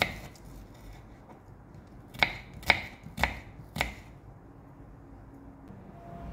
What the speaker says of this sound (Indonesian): Selanjutnya, iris juga bawang merahnya.